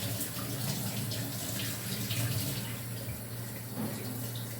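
Water runs steadily from a sink tap in a close, continuous hiss and gurgle, fairly loud and unbroken, with no talking over it.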